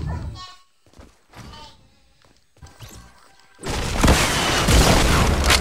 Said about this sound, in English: Somebody just blasted me with a rocket launcher.